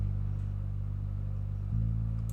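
Dry purity glide bass from a pluggnb beat, a deep sustained low tone that holds, then slides to a new pitch near the end, quiet and alone.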